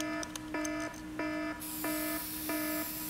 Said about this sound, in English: Which one shuts off the alarm?